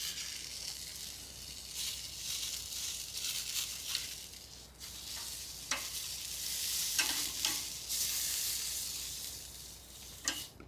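Steak sizzling and crackling in a little oil on a very hot grill, a steady near hiss with occasional sharper pops and bursts, alone without talk.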